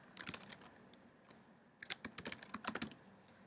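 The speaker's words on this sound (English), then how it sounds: "To invite someone, type in their email" Close computer keyboard typing an email address, with a quick burst of key clicks, a short pause, then a second denser run of rapid taps.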